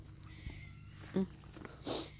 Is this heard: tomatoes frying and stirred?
no